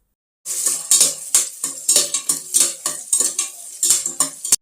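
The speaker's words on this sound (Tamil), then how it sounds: "இதை வந்து நல்லா ப்ரௌனிஷ் ஆகிற வரைக்கும் நல்லா வதக்கி விடுங்க." Shallots sauté in hot oil for Chettinad prawn kulambu, a close sizzle broken by about a dozen rhythmic spatula strokes scraping and clinking against the pan, with no voices.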